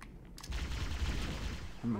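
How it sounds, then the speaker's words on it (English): Covenant enemies in Halo: Combat Evolved fire rapidly under a rapid-fire skull modifier, a dense continuous burst of energy-weapon shots at moderate level, with a sharper hit near the end. "they all shoot very fast because of the skull I turned on"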